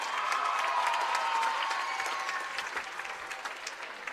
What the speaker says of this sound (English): Let's have a round of applause for Shayna Grorud.